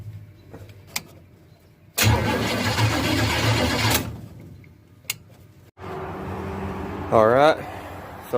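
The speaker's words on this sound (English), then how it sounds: "this is an attempt at a first start with the car's wiring for the first time since 1977" The starter motor of a 1967 Chevelle with its original wiring whirs and cranks in bursts separated by clicks and quiet gaps, close by, with a brief whine near the end.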